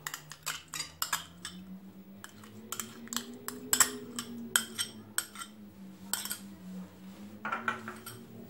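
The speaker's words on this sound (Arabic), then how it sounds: "كنحركوا المكونات كامله مع بعضياتها حتى تجانس لينا" A spoon stirs a yogurt and paprika chicken marinade in a bowl, giving irregular metallic clinks and scrapes against the bowl over a faint, steady low hum.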